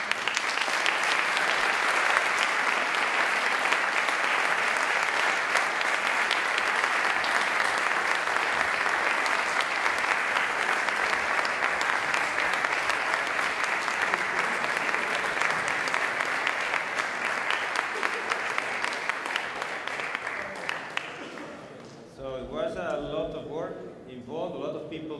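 Audience at a closing session applauds the volunteers, a long, dense, sustained roar of clapping lasting over twenty seconds before it thins out and fades, with voices emerging near the end.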